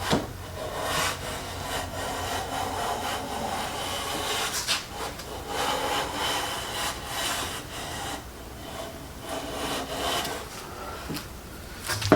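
A Stanley No 4 hand plane fitted with a 50 degree frog shaves a wooden board with difficult grain in a run of steady, close rasping strokes that keep a continuous rhythm throughout.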